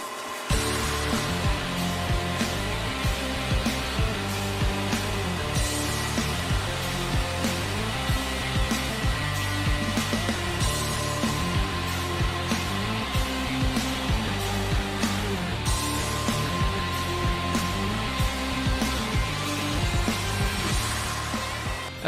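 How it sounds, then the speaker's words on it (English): An automated robot buffs a fire extinguisher with a cotton buffing wheel and Formax rouge compound, giving a loud, steady machine whir with rhythmic surges that hold for over twenty seconds, without any voices. "The Formax rouge buffing compound helped polish the part to a high shine."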